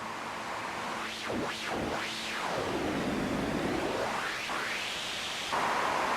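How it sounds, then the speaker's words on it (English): White noise from a Sonicware Liven Ambient synthesizer is swept and modulated, a steady hiss whose filter swoops up and down in whooshing, wave-like arcs before settling into a brighter, louder wash near the end. "You can mix and modulate white noise as well"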